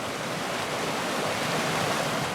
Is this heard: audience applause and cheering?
no